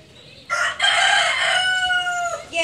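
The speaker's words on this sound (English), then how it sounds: "Yeah, you can hear that chicken." A rooster crows loudly and close by, a long strained call lasting a couple of seconds, with a brief cluck at the end.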